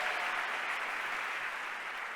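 Audience applause at an interactive session as a speaker returns to the stage, a dense, steady burst of clapping from a large crowd, loud and continuous.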